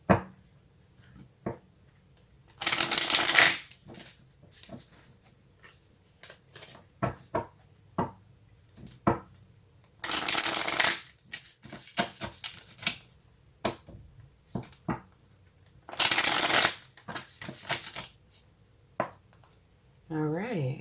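Tarot cards shuffled by hand in several loud, close riffling bursts a few seconds apart, with lighter taps and card handling between them.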